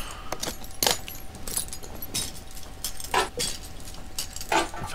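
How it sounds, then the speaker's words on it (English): Metal parts clinking and jangling as brakes are removed from a car in Car Mechanic Simulator 2015, sharp separate clanks and rattles at irregular intervals, close and fairly loud, with no talk. "so let's get the brakes off"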